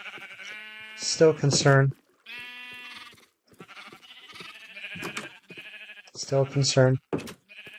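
Sheep bleat in the Minecraft video game, several wavering calls in two bursts near the start and end, close and clear, while a person speaks between them.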